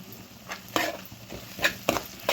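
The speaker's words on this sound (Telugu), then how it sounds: "వేసేసుకుని ఇలా కలిపేసుకోవాలి." Homemade garlic chili powder is stirred into a tomato curry frying in a pan, with a few distinct scraping spoon strokes over a faint sizzle.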